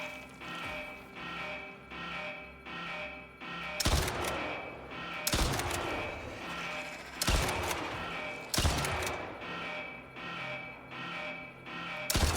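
A kinetic rifle fires in the Icarus survival game, four loud sharp shots spaced about one and a half seconds apart, each with a short decaying tail over a steady low ambient hum and faint music-like tones.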